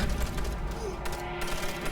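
Continuous heavy artillery gunfire and explosive booms from the video game Call of Duty: World at War in a dense, loud barrage, with faint voices mixed underneath.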